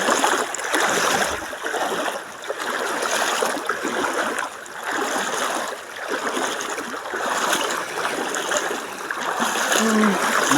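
The Sankri river flows steadily nearby, a broad continuous rush of water with splashing and trickling texture, gently swelling and easing throughout.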